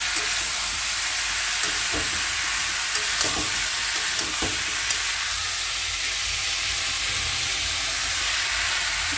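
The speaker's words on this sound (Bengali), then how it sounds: "চিংড়ি মাছ দিয়ে পটল মা এখন রান্না করছে।" Pointed gourd cooks with shrimp in a pan, giving a loud, continuous hissing sizzle with a few faint stirring knocks early on and no talking.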